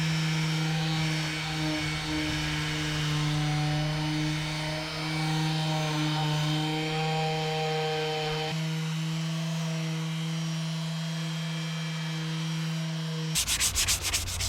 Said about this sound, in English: Next up is a 120 grit sand to scuff all of this.